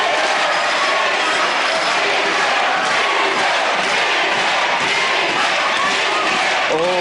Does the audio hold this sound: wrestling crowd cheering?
yes